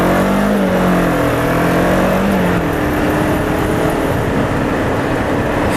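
ER500 motorcycle accelerating hard from a red light, a loud engine note rising through the revs and then holding a steady roar with heavy wind noise.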